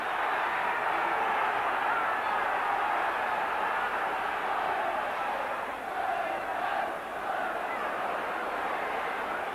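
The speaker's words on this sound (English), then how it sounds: "that has at least brought a response from the Roker Park crowd" A large stadium crowd roars steadily at Roker Park during the 1981 Sunderland vs Liverpool football match, a dense, continuous wash of voices that dips briefly before swelling again.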